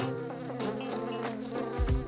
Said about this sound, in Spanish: Cuando están en el aire, sus alas producen vibraciones que el oído humano reconoce como zumbidos.